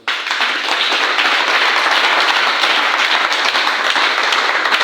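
A church congregation applauding: dense, sustained clapping from many hands, loud and even from start to finish, with no talk over it.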